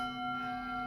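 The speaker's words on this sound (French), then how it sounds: "Accompagné par les cloches de l'église." Church bells ring with a steady, sustained metallic tone, sounding continuous and fairly distant through a short stretch without speech.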